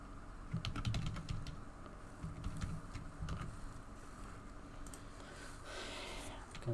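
Someone types a password on a computer keyboard in quick bursts of clicking keystrokes, with short pauses between the runs, close to the microphone and fairly quiet.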